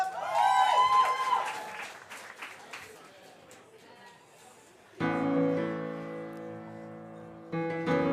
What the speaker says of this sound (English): Ladies and gentlemen, spontaneous applause.